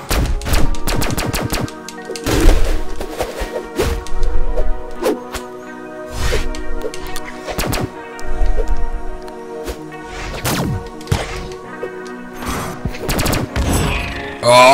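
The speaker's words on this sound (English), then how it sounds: "I should probably use Ada, since the guns are probably my second best weapon." Gunfire from guns in the video game Brawlhalla comes in repeated sharp bursts and cracks, mixed with hits and whooshes over a steady game-music backdrop.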